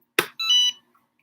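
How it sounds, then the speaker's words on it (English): An EasyPress heat press beeping as a safety reminder to switch it off: a short sharp electronic chirp followed by a longer beep, clear and close in a quiet room. "that's my easy press again. It's beeping to let me know if I don't turn it off"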